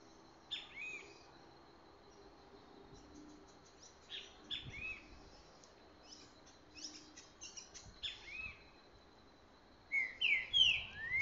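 A rufous-bellied thrush sings outdoors in brushland, short bright whistled phrases repeating every few seconds, moderately distant and clear over a quiet background, with a louder burst at the end.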